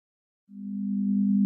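A steady, pure low sine tone for a binaural beat starts abruptly after a brief silence and holds evenly, growing slightly louder, with no other sounds.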